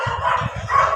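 Dogs barking in a busy market, a rapid run of close, loud barks and yips over steady crowd and street noise.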